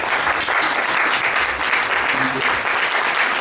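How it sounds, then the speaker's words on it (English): A room full of people at a testimonial gathering bursts into dense, continuous applause, loud and even throughout, with a faint voice briefly audible beneath the clapping. "Please give her a round of applause"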